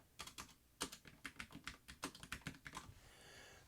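Fingers type on a computer keyboard in a quick, uneven run of soft clicking keystrokes, close and fairly quiet, ending in a brief pause.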